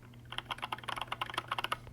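Quick bursts of keystrokes on a Tezzare TK61 compact mechanical keyboard with pudding-style keycaps, a close, fairly quiet run of clacky taps in an uneven rhythm.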